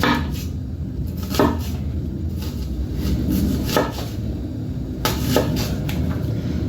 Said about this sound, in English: we're going to take and make small cuts into the onion, about 1/4 of an inch thick